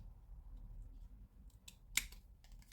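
Scissors trim paper for an advent calendar box: a few faint snips, then one crisp, louder cut, all close up in a quiet room.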